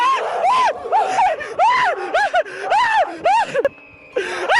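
Men scream in terror as they flee a figure in white along train tracks at night: a string of loud, rising and falling panicked cries and gasps with short breaks, very close.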